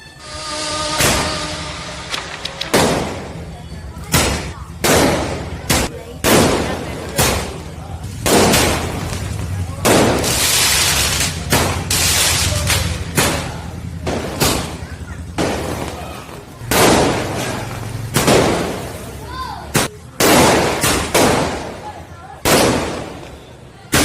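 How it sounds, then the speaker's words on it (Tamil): Firecrackers bursting at a village chariot festival: loud, sharp bangs in an irregular string, some in quick clusters and others spaced apart, with crowd noise and voices between the blasts. "அந்த தேரில் சில பேர் வந்து பட்டாசு வெடிக்கிறாங்க."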